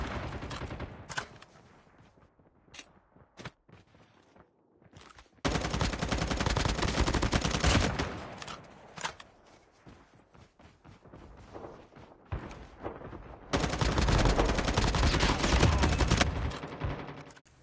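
M4 assault rifle fire in COD Mobile, with scattered single shots followed by two sustained bursts of rapid automatic fire, loud and close, separated by quieter pauses.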